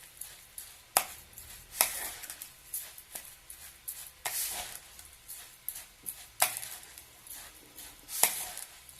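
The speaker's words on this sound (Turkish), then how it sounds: "Karabiberimizi de atalım. Şimdi karıştıralım." Sarma filling seasoned with black pepper and dried mint is mixed by hand in a bowl: soft, close squishing and stirring strokes come in irregular bursts, fairly quiet, with brief sharper clicks between them.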